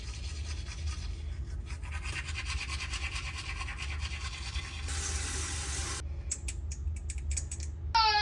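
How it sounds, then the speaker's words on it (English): Toothbrush scrubbing teeth close up, a quiet continuous rhythmic bristle scratching over a low hum, with a short clatter near the end. "Now I'm gonna brush my teeth."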